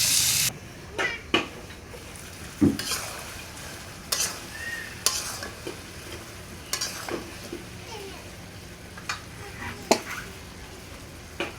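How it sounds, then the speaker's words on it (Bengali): Chicken liver masala is stir-fried in a pan, a soft sizzle beneath repeated sharp scrapes and knocks of a spoon against the pan at an irregular pace, with no talk. "কিছুক্ষণ আরো ভালোভাবে কষিয়ে নেব"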